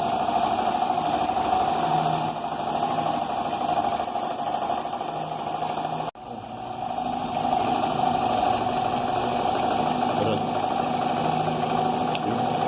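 A Honda Cub 50 engine runs steadily during carburetor mixture adjustment, a close, continuous buzzing drone with a brief dip in the middle before it picks back up.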